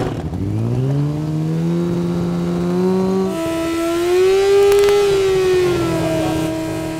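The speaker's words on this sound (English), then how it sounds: "We're just about to do the noise test for the car, so we've got to pass the rules of 110 decibels." A Formula Student race car engine revs close by during a noise test, climbing in pitch, shifting to a higher held note, then swelling and easing back, loud and sustained without talk.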